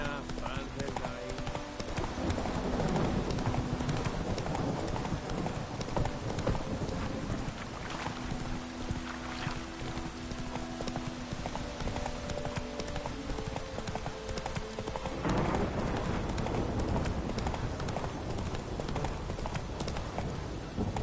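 Roach, the horse in The Witcher video game, trots with a steady, rhythmic clip-clop of hooves close by under music and ambient noise, and voices talk over it at times.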